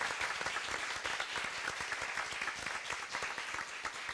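An audience at a board of education meeting claps for a grant writer, sustained, even applause that carries on for several seconds, moderately faint and without voices over it.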